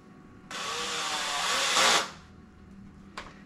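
A power drill drives screws into coffee table parts with one sustained close whir of about a second and a half that rises as the screw seats, followed by a brief second burst.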